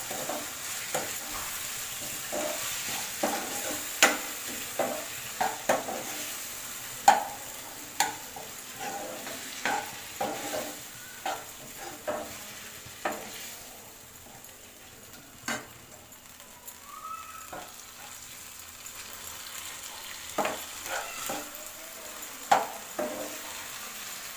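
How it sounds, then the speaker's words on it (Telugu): Tomato pieces fry in a pan for a paneer masala curry, a steady soft sizzle broken by frequent sharp scrapes and taps of a spoon stirring against the metal, close and without any talk. "టమాటా ముక్కలు కూడా వేసుకుని ఫ్రై చేసుకోవాలి"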